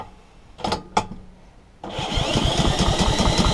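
A Honda Izy 21-inch lawn mower that sat unused for two years is cranked during a spark test: two brief pull-start bursts, then a loud, steady, rapid mechanical chugging that continues to the end.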